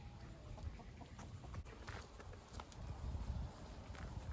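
Pastured chickens cluck softly in an outdoor pen on a homestead, faint scattered calls over a quiet rustling background with no speech.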